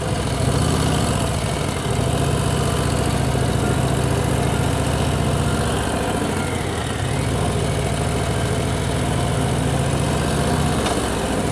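Many motorcycle engines idle and rumble together at a crowded roadside gathering of bikes near a mountain-pass restaurant, a steady loud low drone that runs unbroken throughout with no talk.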